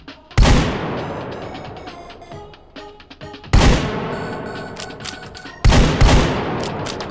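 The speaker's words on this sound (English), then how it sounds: "It fires 2 shells before you use the lever action." Three loud, booming shotgun blasts from the H3VR virtual reality game go off a few seconds apart, each followed by a long decaying echo with faint metallic clinks of the gun's action in between.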